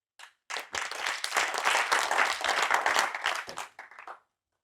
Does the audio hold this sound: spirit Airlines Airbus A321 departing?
no